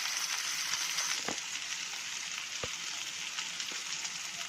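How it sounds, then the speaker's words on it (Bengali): Pieces of chicken and shrimp sizzle steadily in hot oil as they fry until red, a dense, continuous crackle with a few sharper pops standing out. "আর মাংস পিসগুলা ফ্রাই করে নিব। এখন একেবারে লাল করে ভেজে নিব"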